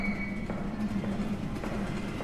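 A train pulls in within the video game Until Then, making a steady low rumble with a faint high whine above it and no talk.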